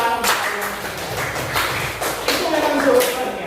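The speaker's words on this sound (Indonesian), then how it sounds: "semua tepuk tangan" A group of people in an Indonesian teacher-training class clap together, a dense burst of hand claps sounding in waves with voices mixed in.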